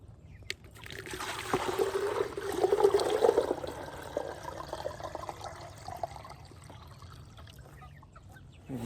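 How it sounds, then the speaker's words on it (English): Water dumped from a 5-gallon bucket on a farm, a rushing splash that swells over a few seconds and then trails off, with faint clucking chickens close by. "And then I'll take the 5-gallon bucket and dump the water into it."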